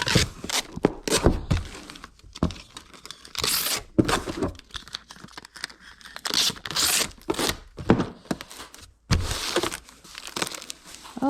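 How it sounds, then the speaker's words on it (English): Packing tape is pulled and pressed down to seal a cardboard shipping box in cold conditions, giving repeated loud ripping screeches and crinkly rustles in bursts, up close with no talk. "And I am just gonna get this taped up right here."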